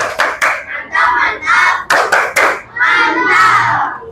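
Sixth-grade elementary schoolchildren in a classroom clap in unison and shout a chant together, loud, close and rhythmic, with bursts of sharp claps between the group shouts.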